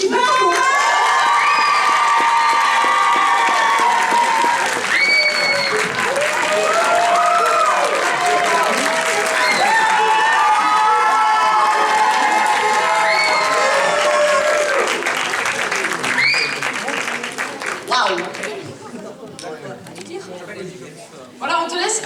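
An audience at the Ludinam 2025 cosplay award ceremony bursts into loud, sustained applause, cheering and high-pitched shouts that keep going for several seconds before thinning out into scattered claps near the end.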